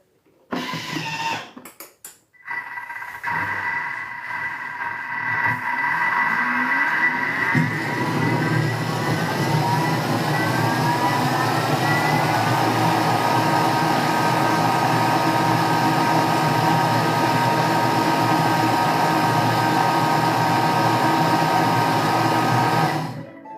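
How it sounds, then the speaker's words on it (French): A blender purées velouté soup for 15 seconds at speed 6. A loud, steady motor roar follows a few stuttering starts, and its pitch sweeps upward as the blades spin up, then it cuts off abruptly at the end. "Donc mixer 15 secondes, vitesse 6."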